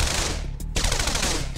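Rapid, dense gunfire from units strafing a target in Command & Conquer: Red Alert, a loud continuous rattle with a brief dip midway before resuming at full intensity.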